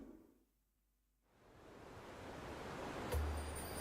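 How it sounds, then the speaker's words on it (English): Ocean waves in a Nintendo presentation game trailer: a brief hush, then a soft, steadily swelling rush of surf building louder toward the end. "I'm getting scared every time I hear ocean waves"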